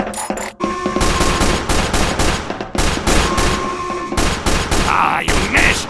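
Rapid animated gunfire rattles in dense, loud volleys from several weapons in a My Little Pony cartoon scene. There are almost no gaps apart from brief pauses, and a faint voice can be heard near the end.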